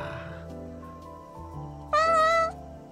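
A cat in the video game Calico gives one clear, loud meow near the end, rising above soft background game music.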